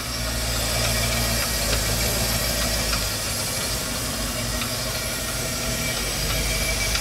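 An LS V8 engine swapped into an OBS truck runs steadily with a deep, even mechanical drone and a faint ticking knock, loud and close, sustained without clear rises and with no voices.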